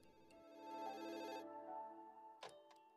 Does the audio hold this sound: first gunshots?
no